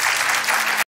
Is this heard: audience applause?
yes